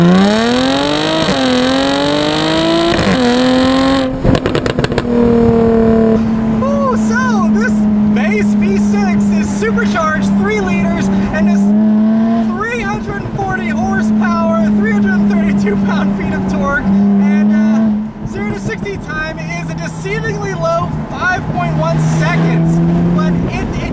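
A 2016 Jaguar F-Type V6 convertible pulls hard in second gear, its engine note rising and holding loud and close from inside the car, with a shift and someone talking excitedly over it.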